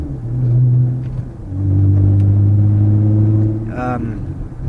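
A Honda CBR 954RR Fireblade motorcycle engine pulls mildly, its low droning note swelling, dipping briefly and rising again in two sustained surges close by, with a short burst of other noise near the end.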